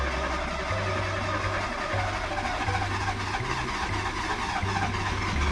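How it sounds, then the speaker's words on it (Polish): A warmed-up car engine idles steadily at close range, a low continuous rumble with slight pitch steps. Its earlier valve tapping has almost died away, and no one speaks over it. "jak się silnik nagrzeje, to prawie mu przeszło. Nawet nie stuka już ten zaworek."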